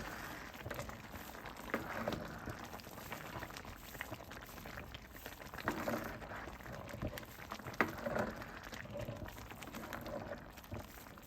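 A pot of vegan green chile stew with potatoes simmers quietly, giving a soft, continuous bubbling patter with small irregular pops and no voices.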